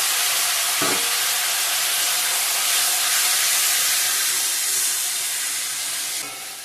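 Chicken meat dropped into hot oil spiced with chilli, bay leaf, whole garam masala, cardamom, onion and ginger, sizzling in a loud, steady hiss, with a couple of brief clatters, then easing slightly at the end.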